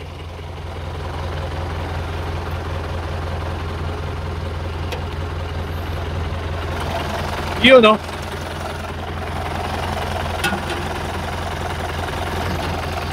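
An Eagle E1 engine in a jeepney idles with a steady low rumble, close and constant; someone speaks briefly over it and a short louder bump breaks in partway through.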